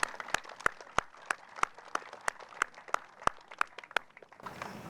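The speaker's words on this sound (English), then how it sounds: "if we could give the mayor a round of applause that he deserves" A crowd applauds at an outdoor press conference for a youth development park, sharp claps repeating at a steady, fairly quick rhythm and spread through the room, with no talk over them.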